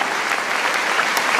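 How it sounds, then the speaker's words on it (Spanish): Audience applause for a woman seated at the front, the wife of the honoree, at a romantic Mexican song tribute; dense, steady clapping fills the whole moment without pause. "El aplauso para ella."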